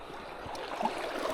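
Current in a trout stream flows with a soft, steady gurgle and light burbling close by, faint and continuous with small splashy accents and no voices.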